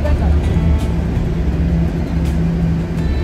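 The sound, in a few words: bus arriving at a bus stop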